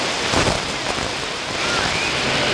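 Steady rain falls, a dense, even hiss that stays loud and constant throughout, with no voices over it.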